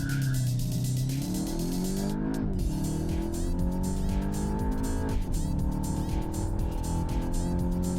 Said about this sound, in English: when you accelerate full, you can see launch control is activated